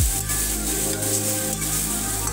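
Laitya fish sautéing in a pan for a fish bharta, giving a steady, close sizzle with faint stirring scrapes throughout, no voices.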